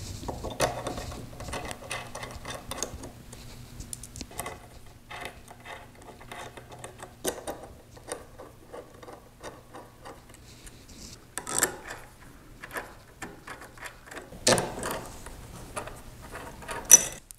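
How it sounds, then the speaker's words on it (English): Pan head screws are driven into the parts of a trim router sled kit, with scattered ticking and clicking of the screws and assembly at close range. Short handling knocks appear, and no one speaks. "now you could begin attaching your assembly using the rest of the pan head screws"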